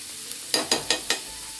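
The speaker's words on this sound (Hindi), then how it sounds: "अभी हम लोग ऑनियन ऐड करेंगे गाइस।" Three chopped onions sizzle in hot oil in a pan under a steady frying hiss, broken by four quick, evenly spaced scraping strokes of a stirring spoon.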